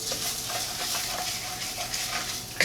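Rice sizzles and crackles steadily in a hot pan while being stirred for a butternut squash pilaf, a continuous close frying hiss with soft scraping, ending in a brief louder clink.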